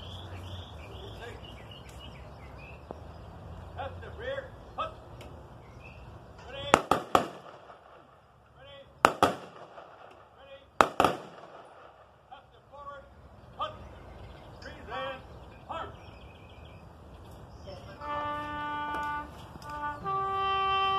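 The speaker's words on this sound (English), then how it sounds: "Rifle Commander, fire three volleys." Three sharp, loud rifle volleys fired by an honor guard at a military funeral, spaced a few seconds apart, with crickets chirping steadily outdoors and brief spoken commands around them.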